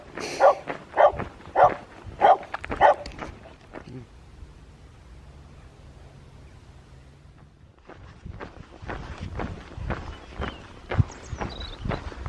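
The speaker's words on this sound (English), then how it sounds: "Here's another puppy." A dog barks about five times in quick succession, fairly close, then footsteps crunch steadily along outdoors in Ireland with no voices.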